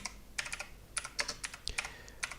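Quick, close clicks of a computer keyboard as a greeting is typed into Google Translate, the keystrokes coming in short uneven bursts with no voices.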